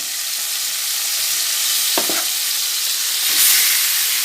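Marinated chicken pieces added to a hot pan, giving a loud steady sizzle throughout, broken by a brief clatter partway through and a short surge of hissing near the end, no voices.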